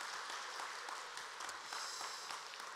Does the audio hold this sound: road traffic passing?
no